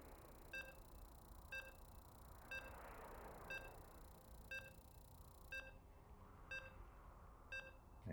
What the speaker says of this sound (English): And you can hear the beeps.